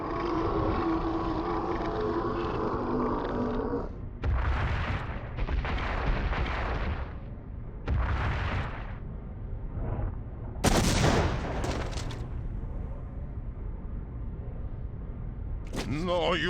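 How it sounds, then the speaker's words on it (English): Gunfire in a Blair Witch video game: several heavy, booming shots in short bursts over a low droning game soundtrack, loud and close. "we defeat Steuben by, what else, shooting him to death."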